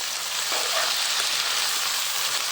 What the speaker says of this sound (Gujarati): પછી નાખવાના ભીંડા બધાને મિક્સ કરી નાખવાનું સરખી રીતે